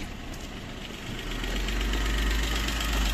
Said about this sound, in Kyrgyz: Учурда от алып турат